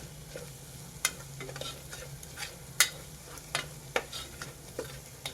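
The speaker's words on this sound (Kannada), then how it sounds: "ಇದೆಲ್ಲ ಚೆನ್ನಾಗಿ ಫ್ರೈ ಆಗಬೇಕು ನೋಡಿ." Chili powder and spices fry in oil in a pan for Punjabi-style dum aloo, a soft steady sizzle broken by repeated scraping stir strokes and occasional spoon clicks, close and fairly quiet.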